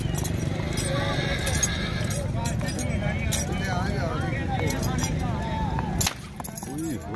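Horses at a horse market in Pakistan, with whinnies and clopping hooves mixed with metallic clinks and busy crowd chatter. People talk throughout, and the din drops slightly near the end.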